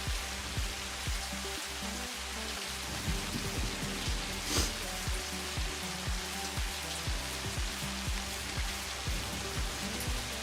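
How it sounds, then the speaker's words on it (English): Heavy rain and a thunderstorm in the video game Satisfactory, a steady dense downpour hiss with a brief sharper burst near the middle, beneath repeated low thuds and tones. "Wait, this is heavy rain. Isn't this a thunderstorm?"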